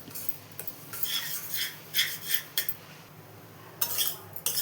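A spoon stirring and scraping a metal pan while a mixture fries golden in ghee for instant motichoor laddu. The scrapes come in short, repeated strokes, close and fairly quiet, with no speech.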